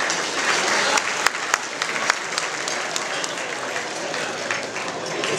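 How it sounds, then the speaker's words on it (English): Gala audience giving a big round of applause, a broad sustained roar of clapping with a few sharper nearby claps popping out, steady and full throughout. "give yourselves a great big round of applause."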